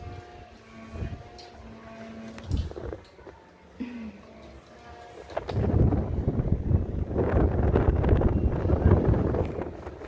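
Strong gusting wind buffets the microphone as rain begins near the Ganges, rising into a loud, sustained roar in the second half after quieter, intermittent sounds at the start.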